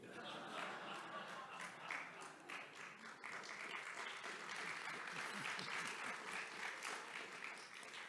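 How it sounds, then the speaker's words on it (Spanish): An audience applauds at an author event, a dense, steady wash of many hands clapping that holds for about eight seconds at moderate distance, with a few voices mixed in. "Aplausos"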